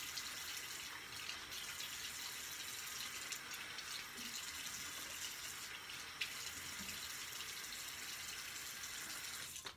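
Steady running tap water rinsing a razor at a sink during a wet shave, a continuous even hiss with no talk over it.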